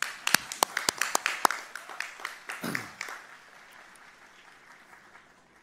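Applause at a Cocalico High School graduation ceremony: a few distinct sharp claps close by over scattered crowd clapping, fading out after about three seconds.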